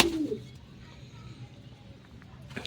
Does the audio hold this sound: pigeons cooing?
yes